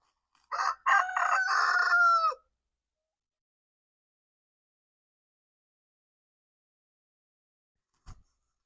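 A rooster crows once, loud and close, followed by silence and a brief soft knock near the end.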